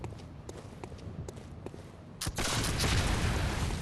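Enemy gunfire from rifles in Bloodborne: a few sharp, separate shots stand out over footsteps and low game ambience, then a loud, dense burst of noise takes over for the last second and a half.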